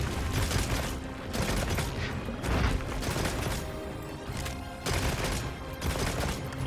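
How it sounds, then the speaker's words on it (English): Heavy explosive ammo fired from the slinger in Monster Hunter Wilds, a dense run of loud blasts and crashing bursts that nearly fills the clip, with sharp new impacts landing near the start, the middle and the end. "Heavy explosive ammo? That's new for the slinger."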